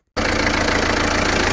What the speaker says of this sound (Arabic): دوك نوض لك الموتور واشتغل.